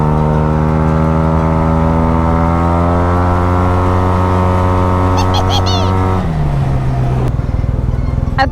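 A motorcycle, Tmax scooter or Tracer, pulls through traffic with a loud, steady engine drone that rises in pitch, then drops and settles into a new tone near the end, with brief chirps and clicks over it.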